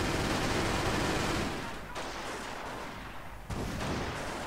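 A grenade tossed at an AA emplacement during a Company of Heroes battle, heard amid dense, continuous gunfire and blast noise with loud rumbling surges that dip briefly and return.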